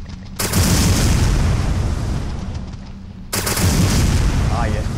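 In the video game Resident Evil Dead Aim, a weapon with infinite ammo fires in sustained loud bursts, pausing once briefly before resuming, up close.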